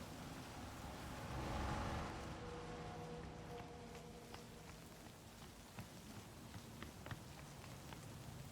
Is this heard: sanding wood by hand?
no